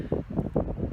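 Wind gusting outdoors, buffeting the microphone in a few rough, low rumbling surges over a steady blustery background.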